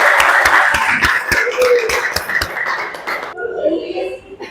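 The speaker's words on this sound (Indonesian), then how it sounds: "Kasih tepuk tangan buat Irsa." Classroom applause for a student named Irsa, a quick run of sharp claps from a small group that stops abruptly, with some voices underneath and a quieter murmur at the end.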